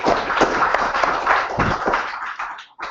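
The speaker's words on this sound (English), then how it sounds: "round of applause, please." A short burst of modest applause from a small audience at a British chess championship round in Aberystwyth, a few seconds of uneven clapping that thins out and stops.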